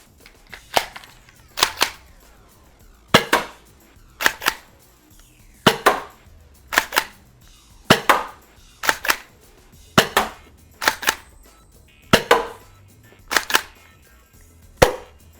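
A foam dart blaster fires heavyweight Worker darts in a steady series of sharp, loud pops, often in close pairs with a mechanical clack, repeating roughly every second with quiet gaps between shots.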